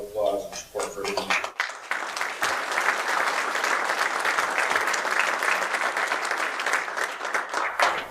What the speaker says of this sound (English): You all deserve a huge round of applause and support for everyone.